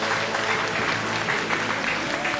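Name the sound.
audience applause for the director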